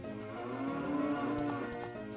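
A cow moos in the video game Zelda: Ocarina of Time, one sustained lowing call that holds steady for about two seconds, clear and alone with no talk over it.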